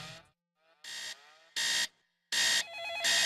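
A hotel room telephone rings for a wake-up call, sounding as bright electronic bursts that repeat four times in a steady on-off rhythm, close and clear with no voices.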